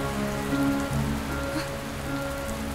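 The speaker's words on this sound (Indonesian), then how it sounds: "Hujan ya?" Steady rain falls on surfaces outdoors, a dense, even patter with a faint hum beneath and no talking.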